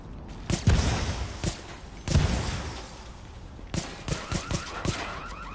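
Bursts of submachine gun fire in The Division video game, several short volleys of rapid shots separated by pauses, loud and close, with no talking.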